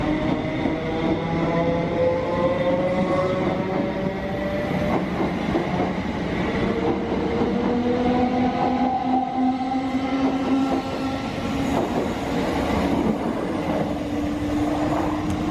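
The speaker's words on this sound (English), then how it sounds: "This train is formed of 8 coaches." An eight-coach passenger train in London rumbles steadily along, with rhythmic clatter of wheels on rails and drawn-out humming, whining tones rising and falling throughout.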